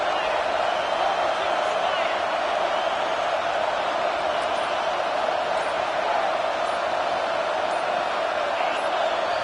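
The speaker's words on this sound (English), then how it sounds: "with this place rocking, the crowd forces a false start" A packed football stadium crowd roars loudly and continuously on third down near the two-minute warning, a sustained wall of noise with faint whoops flickering through, holding steady from start to finish.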